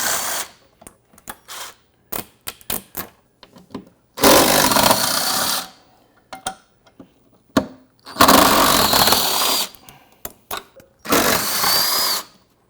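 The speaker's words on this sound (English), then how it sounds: "You're going to need a T45 Torx bit to remove this guy." A power tool fitted with a T45 Torx bit backs out bolts holding the hinge trim on a Jeep Wrangler JL Unlimited, loud repeated bursts of whirring, some short taps and some sustained for a second or more, with quiet gaps between.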